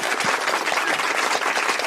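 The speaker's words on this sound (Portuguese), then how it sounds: "Então, palmas." A small studio group claps briefly and steadily during a podcast recording, a short burst of close, dense applause with no talk over it.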